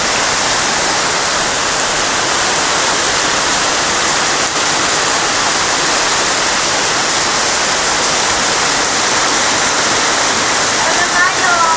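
Heavy rain pours down amid rushing floodwater, a loud, constant broadband roar that fills the whole stretch without letup, like a waterfall close by.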